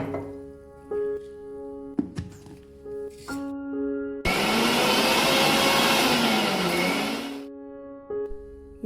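Mixer grinder blending mango with milk for a milkshake, a loud steady whirring burst lasting about three seconds mid-clip, bracketed by short motor pulses, thumps and quieter appliance hum.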